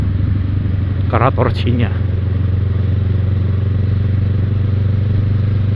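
A Kawasaki Ninja 650 (ER6F) runs steadily while being ridden, a low constant engine drone filling the whole stretch as someone speaks briefly over it early on.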